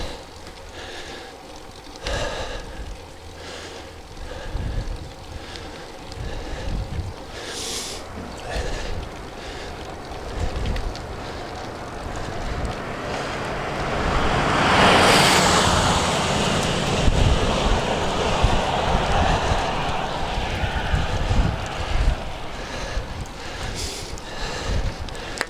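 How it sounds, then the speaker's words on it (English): Wind blowing outdoors against a cyclist riding into a headwind, a steady broadband rush with mic buffeting that swells into a louder gust midway and stays strong to the end, no talking. "But I'm definitely feeling a bit more of a wind. A little bit of a headwind going on here."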